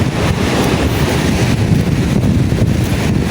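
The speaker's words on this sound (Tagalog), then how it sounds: "ang lalaki ng alon." Big rough waves crash at a resort beach, a constant loud roar of surf mixed with heavy wind buffeting the microphone.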